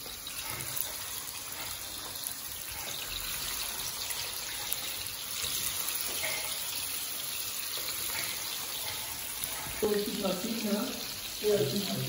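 Chicken leg pieces hit hot oil in a kadai while biryani is being cooked, giving a steady, water-like sizzle throughout, with a few louder clatters and faint voices near the end.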